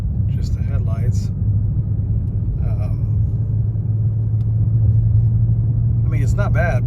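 A 2015-20 Ford Mustang rolls through a residential neighborhood at night, with a steady low engine and road rumble throughout and someone talking over it in short bursts.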